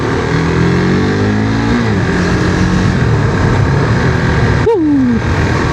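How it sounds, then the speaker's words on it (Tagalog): A KTM RC 390 motorcycle on a late-night ride in Montalban, Rizal accelerates hard through its gears, with rising engine whine, a shift near the middle, and a loud close rev sweep near the end over steady wind roar. "Yun ang torque ng RC ng KTM ng 390, kita nyo."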